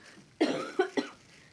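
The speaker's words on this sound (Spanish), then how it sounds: "Como les dije, estoy con la tos" A person with a cough in a home kitchen lets out three quick, close coughs in a row, one harsh burst followed by two shorter ones, with quiet surroundings.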